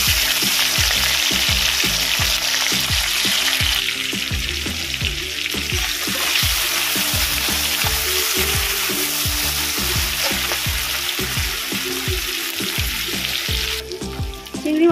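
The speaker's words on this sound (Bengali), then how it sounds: "আমি এই তেলের মধ্যে চিংড়ি মাছ দিয়ে দেবো।" Shrimp fry in hot oil with a loud, continuous sizzle, while regular scraping knocks of a spatula stir the pan throughout, no talking.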